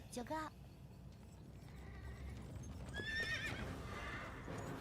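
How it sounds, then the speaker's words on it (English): A horse in a video game lets out a sharp, close neigh at the very start. Softer hoof clops and mechanical clatter follow over a low background murmur. "No, this horse got the devil in him."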